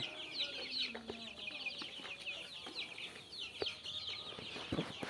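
Tiger-breed chickens and desi crosses cluck on a backyard farm behind plastic-net fencing, with a continuous chatter of calls from several birds at moderate distance and no talking.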